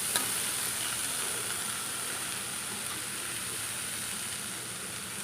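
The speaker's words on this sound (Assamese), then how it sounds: "শাকখিনি অলপ সময় ভাজি ল'ব লাগিব এনেদৰে সিজিবৰ কাৰণে" Water spinach sizzles in a hot pan with a steady, even hiss that runs without pause for the whole stretch, with no voices.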